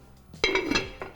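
Metal lid set onto a pot of bean and mushroom soup, a couple of quick, close clinks and a brief ringing scrape.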